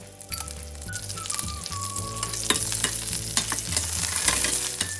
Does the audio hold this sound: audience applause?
no